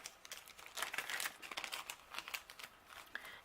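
A small plastic baggie holding paper cut-outs and embellishments is handled, giving a close, continuous crinkling and rustling with quick irregular crackles.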